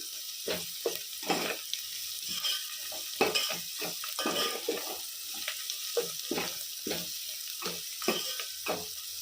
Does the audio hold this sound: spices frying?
yes